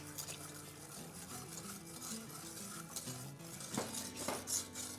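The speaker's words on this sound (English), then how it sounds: "whisk in 2½ cups of any non-dairy plant-based milk. I'm using almond milk" Almond milk being whisked into a mixture in a pot, with soft metallic scraping and clinking of the whisk against the pan, quiet and close, with a couple of louder knocks near the end.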